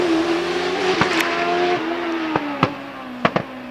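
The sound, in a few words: Empire racing car accelerating up hillclimb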